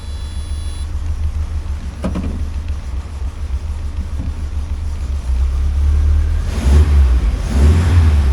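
The engine of a 1980 Triumph TR7 sports car idles with a loud, close, low rumble and then revs up, growing louder toward the end.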